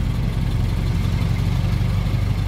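Ford Model T engine running on a road with the throttle being opened, a steady, loud, low rumbling drone that stays fairly constant throughout without a clear rise.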